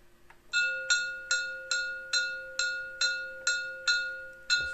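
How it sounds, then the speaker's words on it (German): Bell sound function of a Märklin 37086 H0 model locomotive: nine evenly spaced, ringing bell strikes, clear and close, each tone decaying before the next, with a faint steady hum underneath. "Das ist die Glocke."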